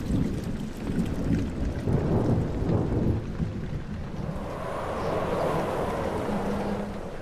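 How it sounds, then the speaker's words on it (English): Steady rain falls and patters on surfaces outdoors, with low rolling rumbles of thunder underneath and no one talking. "It's raining."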